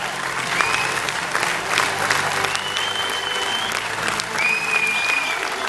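Steady applause from a cinema audience for the cast at a film premiere screening at a UGC theatre, dense clapping continuing throughout with a few faint whistles rising above it.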